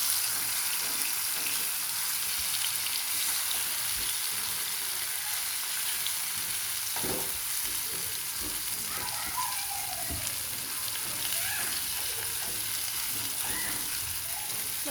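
Spices sizzling in hot oil with garlic, turmeric and salt for a mustard hilsa fish dish, a steady close-up frying hiss with occasional stirring and utensil scrapes and no talk.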